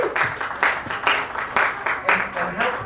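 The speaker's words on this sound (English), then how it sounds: "So give a warm welcome and round of applause to Joel Elliott, everybody." Audience applause for a comedian at a stand-up comedy show, a steady wash of clapping with rhythmic surges, fairly close and loud, continuing throughout.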